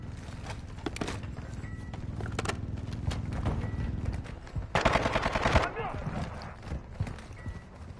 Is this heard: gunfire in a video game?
yes